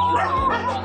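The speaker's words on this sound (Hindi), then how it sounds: "वहाँ पर हो गई मंगल की लड़ाई बाकी सारे कुत्ते के साथ" A dog in a street fight with other dogs gives a short, close, loud bark-yelp, lasting under a second.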